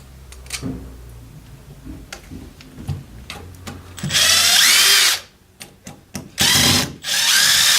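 A power drill drives screws into the bumper of a Traxxas Rustler 4x4 RC truck, with clicks and handling knocks at first, then several loud, close bursts of whirring drill noise separated by short pauses.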